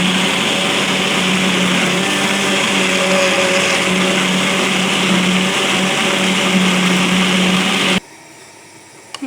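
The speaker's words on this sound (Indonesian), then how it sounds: "Saya mau blenderin dulu." A kitchen blender grinds shallots and tomatoes without added water into a chili paste for tuna balado, a loud steady whir that runs for about eight seconds, then cuts off abruptly.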